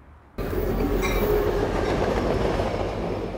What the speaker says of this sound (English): The rumble of the train over the bluffs in Del Mar.